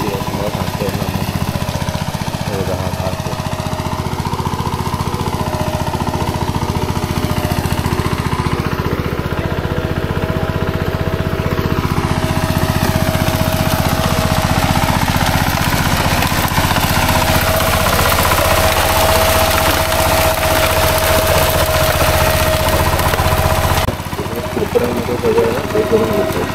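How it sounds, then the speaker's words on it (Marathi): A tractor tills a paddy field in Konkan, loosening the soil before rice planting. Its engine drones loud, close and unbroken throughout, with a rough mechanical rattle underneath. "ट्रॅक्टर मारून घेतात आणि माती खालची जी आहे ती भुसभुशीत करून घेतो"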